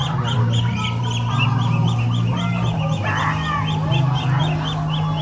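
Ducks and chickens on a Thai farm keep up a steady chorus of honks, quacks and clucks, with a low continuous hum running underneath the birds throughout.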